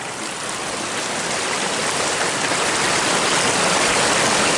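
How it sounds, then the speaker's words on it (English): Salmon River water pours down a gold sluice in a steady, loud, close rush of broadband noise that holds level the whole time, with no voices. "to show you the first shots in the Salmon River running down the sluice"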